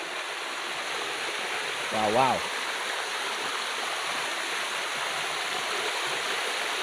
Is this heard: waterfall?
yes